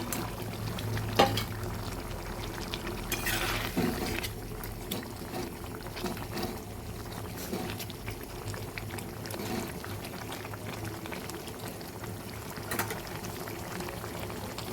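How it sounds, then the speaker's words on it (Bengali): A pan of tengra fish and potato curry boiling hard, with steady close-up bubbling and popping and no voices. "মাছ আলু সব সুন্দর করে ফুটে উঠেছে।"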